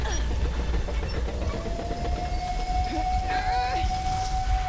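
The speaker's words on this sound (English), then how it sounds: "Wait, the train leaving without us." Train from the video game Metro Exodus, a long steady whistle-like tone over a constant low rumble of moving rail cars, continuous and fairly loud throughout, with brief higher warbling tones near the end.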